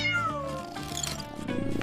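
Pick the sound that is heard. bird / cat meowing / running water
cat meowing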